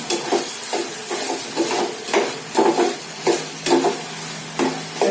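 Potato pieces are stirred in oil in a pan, with a spatula scraping in a regular rhythm of about eight strokes over a gentle sizzle.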